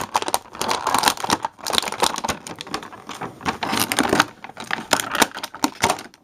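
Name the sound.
removing plastic tie from Batman action figure packaging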